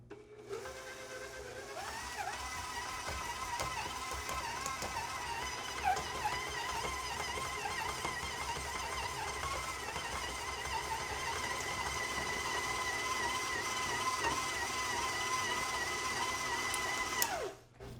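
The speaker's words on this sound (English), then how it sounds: "continue to mix at a faster speed for an additional 4 minutes" A stand mixer kneads brioche dough at high speed, its motor giving a steady close whirring hum with a whining tone that rises and holds, broken by faint rhythmic knocks from the dough, before it winds down at the end.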